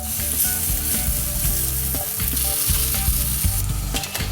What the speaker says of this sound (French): Nous allons cuire nos blinis.